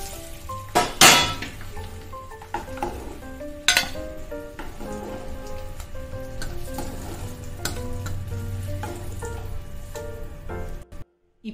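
Fried eggs being lifted out of a pan into a bowl: sharp clinks of metal utensils against dishware ring out over a steady sizzle of hot oil, with scattered lighter taps and scrapes before it abruptly cuts off.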